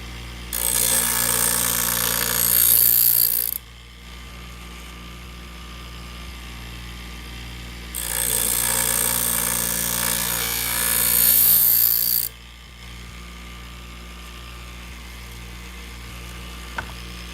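Scissors grind against the wheel of a Twice as Sharp sharpener in two loud, sustained passes of about three and four seconds each, separated by a quiet pause over a low motor hum.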